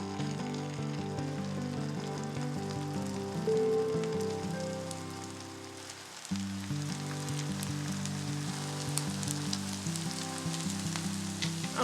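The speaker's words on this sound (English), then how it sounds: "I'm now going to fry these." Potato koftas fry in a pan of vegetable oil with a continuous, close crackling sizzle and a brief shift midway as they settle.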